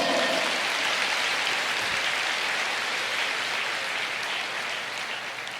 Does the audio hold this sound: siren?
no